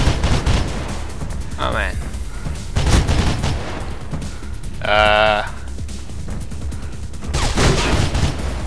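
Gunfire rattles in bursts during play of the video game Mirror's Edge, the shots rising and falling among the game's other noise while someone talks and exclaims over it.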